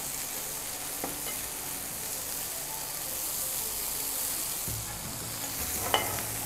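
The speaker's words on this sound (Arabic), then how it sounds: "جيب بقى البرجر كده اول ما ياخد لون من تحت اقلبه الناحية التانية على طول" A smash burger patty sizzles hard in a pan, a dense, steady hiss of frying with a couple of faint clicks, close and continuous with no talk.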